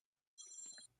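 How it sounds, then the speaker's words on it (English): A telephone rings once, a bright electronic trill cutting in sharply and ringing for about half a second before stopping, loud and close with no talking. "I got a phone call"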